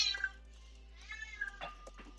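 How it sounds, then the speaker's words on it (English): A deaf cat meows loudly in the background, several drawn-out, wavering cries in short bursts spread across a couple of seconds, with no talking over them. "That cat that you hear in the background is deaf, so she has no idea what she sounds like."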